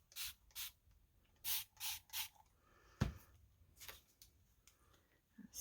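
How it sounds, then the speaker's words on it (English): A handheld spray bottle mists water onto a small mixed-media purse in a series of short, quiet bursts, about seven or eight evenly spaced sprays with soft handling noise between them. "So I'm gonna spray this with the water very carefully."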